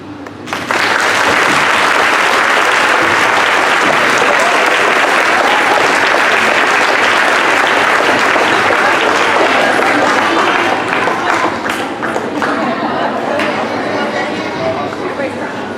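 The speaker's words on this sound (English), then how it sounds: "One more big round of applause for our third grade Citizenship Award winners." A school assembly audience claps for third grade citizenship award winners, loud, dense and sustained applause that starts suddenly and carries on for many seconds, thinning slightly toward the end.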